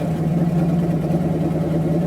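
A 1979 Chevy 350 V8 on its first cold start, running as a steady, low, continuous rumble with an even mid-range drone and no talking.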